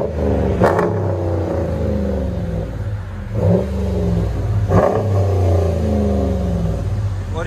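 A RAM 1500 with the 5.7L HEMI V8 and a Venom race muffler revs hard three times over a deep, steady idle rumble, each blip rising sharply then falling back, loud and close with no talking.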